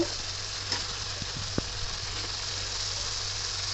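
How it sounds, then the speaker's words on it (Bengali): Eggplant and yardlong beans go into a pan of fish curry, giving a soft steady sizzle with a few faint clinks and knocks near the start. "এখন সবজিগুলো এক এক করে দিয়ে দিচ্ছি"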